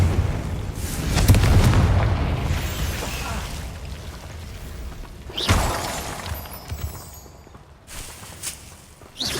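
Fiery Confringo spell explosions in Hogwarts Legacy burst out loudly, a heavy boom early on followed by a second sharper blast midway and a smaller pop near the end, each trailing into rumbling decay.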